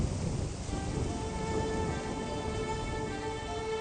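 Heavy rain falls steadily in a dense, continuous hiss, with a low rumble of thunder mixed beneath and no voices.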